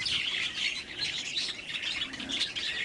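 Budgerigar chicks in a breeding cage give a continuous, busy stream of high chirps and twitters, fairly close, with no talking over them.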